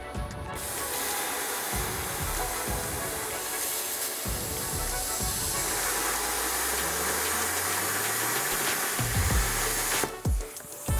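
A Cutmaster 70+ plasma cutter slices through rusty metal, giving off a steady, loud hiss that lasts about ten seconds and then stops abruptly, followed by a few brief clunks.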